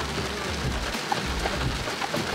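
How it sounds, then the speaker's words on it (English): Heavy rain pours steadily in a dense, loud wash of drops hitting surfaces, continuous and close with no talking. "I went in there, it was drizzling, and then I came out and it's like pouring."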